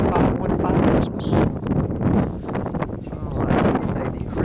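Wind gusts across an open microphone outdoors on a windy night, a loud, rough, continuous rumble that swells and fades.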